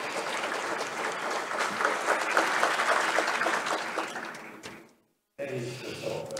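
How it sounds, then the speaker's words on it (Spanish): Audience applause at the closing of the LACNIC 40 / LACNOG 2023 conference, a dense sustained clapping from a large room that fades, cuts to silence, then resumes briefly. "recibir los aplausos correspondientes de la platea"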